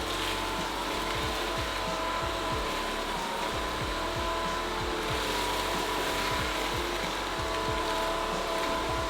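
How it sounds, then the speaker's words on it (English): A Bissell CrossWave cordless wet-dry vacuum mop runs in dry vacuum mode, its motor whirring continuously, with small crackles and ticks as cereal debris is sucked up. "I was just using it as dry vacuum, and it picked up everything"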